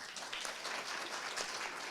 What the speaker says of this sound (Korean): 정우영 본부장님을 박수로 맞이해 주시면 감사하겠습니다